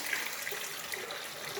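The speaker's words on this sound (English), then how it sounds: "Rinse my brush out." Hot tap water running steadily as a shaving brush is rinsed under it, a continuous close hiss and splash with small bubbly spatters throughout, no talking.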